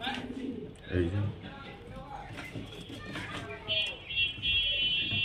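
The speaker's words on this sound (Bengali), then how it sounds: "এটা কিন্তু পিওর মুর্শিদাবাদী গিরিবাজ লাইনের পায়রা" Murshidabadi Giribaz pigeons coo in low soft bursts close by while someone talks over them, and a steady high electronic beep or buzzer sounds near the end.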